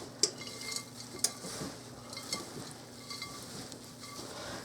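A sticky granola bar mixture with cranberries and walnuts is stirred by hand, with soft squelching and several sharp clicks of a spoon against the bowl, quiet and close and with no talking.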